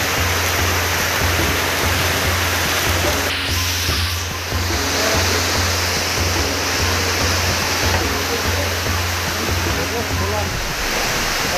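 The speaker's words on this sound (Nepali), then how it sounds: "एकदमै ठुलो पानी परेको छ, यत्रो पानी चाहिँ यो सिजनको पहिलो हो" Heavy monsoon rain pours down in a dense, continuous roar, the season's first big downpour, with strong wind gusting through and a low rhythmic thumping underneath.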